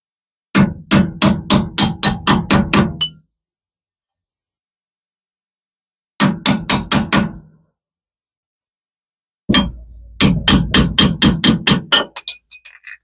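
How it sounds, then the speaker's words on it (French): A hammer drives a drift punch against the hub cap of a Renault Twingo 2 wheel hub, giving loud, rapid metallic strikes in three separate bursts with quiet gaps between them and no talk. "Un chasse et un marteau."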